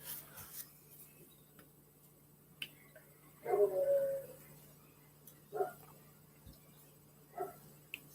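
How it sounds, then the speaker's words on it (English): A dog next door gives a few short barks and whimpers, faint and distant through an open back door, spread out with quiet stretches between them in a calm indoor room. "Dogs are barking."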